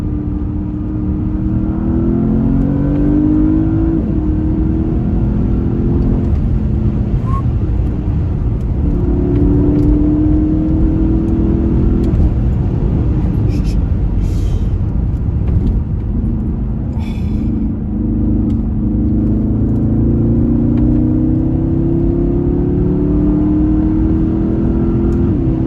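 A 2020 Porsche Panamera Turbo pulls hard after a downshift into third, its engine note climbing steadily through long rising sweeps, a loud, close, continuous roar with no talking over it.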